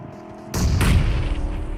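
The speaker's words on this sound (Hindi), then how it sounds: "मैंने यहाँ पे एक और ग्रेनेड खोला" A grenade goes off in a battle royale video game as one sudden loud blast followed by a heavy rumbling tail that stays close and fills the mix.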